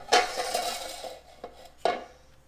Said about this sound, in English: Clean off my spoon here.